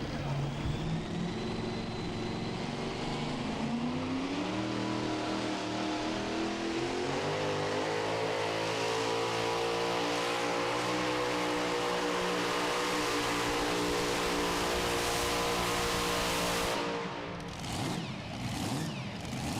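An unlimited super stock pulling tractor roars at full throttle during a pro pulling event in Goshen. The engine note climbs in pitch and holds a loud, sustained howl, then cuts off sharply near the end.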